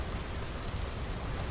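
Rain pours in Vintage Story, a brief, dense, even hiss of falling drops with no breaks and no voices.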